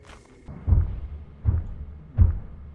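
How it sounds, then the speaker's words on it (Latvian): Running footsteps in the video game Lethal Company fall as three heavy, low, evenly spaced thuds, close and moderately loud. "Golden Boy skrien pāri"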